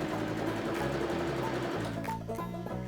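A sewing machine runs zigzag stitching along a shirt yoke, its rapid mechanical whirring and steady needle thumps close and loud, continuous for about three seconds with a shift in pitch near the end.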